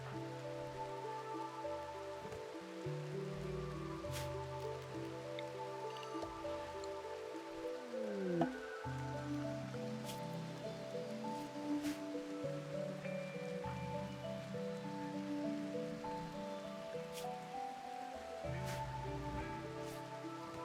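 Steady RimWorld game rain patters and drips without a break for about twenty seconds, layered over sustained tonal background sound.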